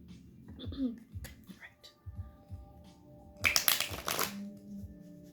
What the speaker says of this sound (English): I'm gonna give it another shuffle.